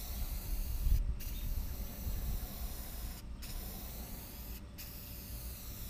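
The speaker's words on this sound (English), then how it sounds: "Now I'm spraying this very heavy because plywood just drinks paint right in." Three short, sharp bursts of aerosol spray paint onto plywood hiss over a low background rumble, each lasting about half a second, with no talking.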